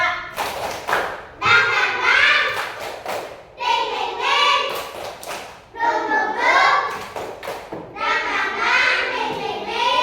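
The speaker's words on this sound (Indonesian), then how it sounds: "Tepuk semangat." A class of young children claps a rhythmic spirit clap in repeated bursts of thumping claps, with chanting voices and the teacher's speech woven between.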